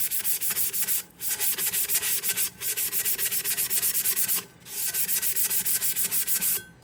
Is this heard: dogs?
no